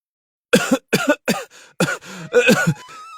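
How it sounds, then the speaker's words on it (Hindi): A man coughs repeatedly after black smoke bursts from an opened pot of burnt biryani, a close series of harsh, rough coughs in uneven bursts with throat clearing at the end. "मंत्री जी खांसने लगते हैं।"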